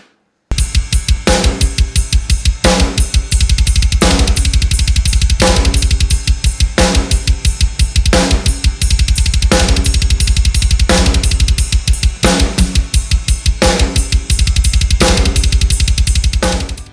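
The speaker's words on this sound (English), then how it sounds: "put the backbeat of the snare on beats 2 and 4 and just keep a simple 8th note pattern" A steady drum groove with a rapid, driving double bass drum and a sharp snare hitting the backbeat, loud and close, no talking.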